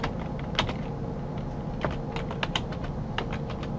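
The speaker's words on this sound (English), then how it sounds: "So I am typing the IP of the host H10" Rapid clicking keystrokes on a computer keyboard as an IP address is entered into a terminal, steady and close with occasional louder key hits, no voices.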